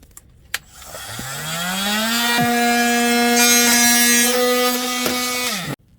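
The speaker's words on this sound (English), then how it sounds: "I'll just be using a metal and wood oscillating blade" A metal-and-wood oscillating multi-tool blade cuts through drywall screws holding an RV slide-out roller, spinning up to a loud, steady buzzing whine with sharp clicks of the blade biting, then stopping abruptly.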